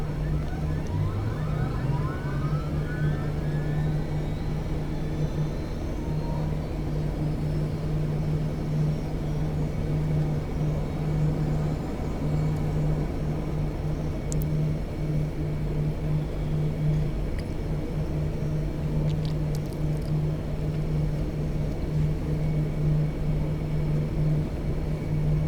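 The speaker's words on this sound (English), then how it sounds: "Starting engine 2." Lockheed C-130 engine two spinning up in the X-Plane 12 flight simulator, a steady turboprop whine and drone with a rising tone at the start, holding constant and fairly loud throughout.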